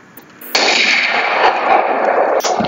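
A sniper rifle fires in the video game Garry's Mod: a single loud, sharp gunshot breaks in, then a long rolling echo trails away over the next two seconds.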